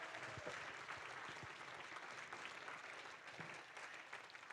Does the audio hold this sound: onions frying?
no